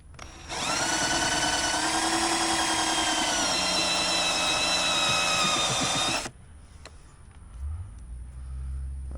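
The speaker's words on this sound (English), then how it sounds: "If I remember how this fucking drill works." A power drill whines loudly and steadily for about six seconds while drilling out rivets on a rusty bumper, then cuts off abruptly, leaving faint handling noises and low rumble.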